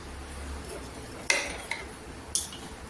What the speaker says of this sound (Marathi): इथे लिंबू कसा कट करायचं बघा